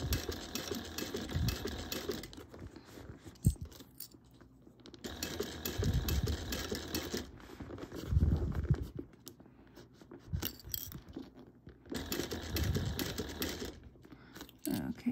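A sewing machine stitches a bag seam with a wide seam allowance, running in steady rhythmic bursts with short pauses between them, its close, busy mechanical chatter over low motor rumble.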